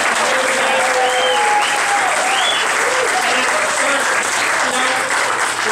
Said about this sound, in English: let's give a round of applause for the office.